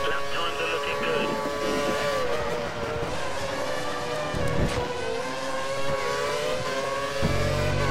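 Formula One car engine held at full revs in the F1 2013 racing game, a Lotus racing at Bahrain: a loud, sustained high-pitched whine with layered harmonics that shift slightly over the lap.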